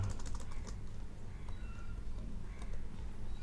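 Fingers tap a computer keyboard during an online e-Shram card registration, with quick light clicks over a low background hum and no voices.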